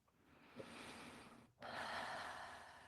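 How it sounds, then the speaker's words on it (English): A deep breath drawn in sharply and let out in a long, steady exhale, close and fairly loud, with a short pause in between during a guided calming break. "Deep breath in"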